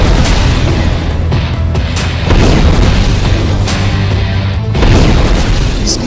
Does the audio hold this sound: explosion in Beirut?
yes